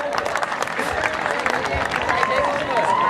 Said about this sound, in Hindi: भैया हमारे जोड़े के लिए भी जोरदार ताली बजा दो